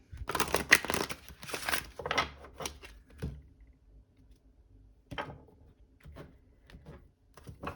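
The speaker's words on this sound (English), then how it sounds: "Let's go ahead and do one last shuffle." Tarot cards being shuffled: rapid papery riffling and flapping bursts, a dense flurry at first, then a few softer separate shuffles and taps spaced apart.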